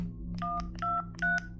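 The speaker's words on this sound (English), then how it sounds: "At 9, she called her best friend Debbie" Telephone dialing tones: three distinct touch-tone beeps spaced evenly over a steady low background hum, moderately loud and close.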